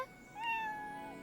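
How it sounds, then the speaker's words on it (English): A cat character in the video game Atelier Yumia lets out a single drawn-out, rising meow, clear and fairly close, over a soft ambient game background. "Hello, meow meow."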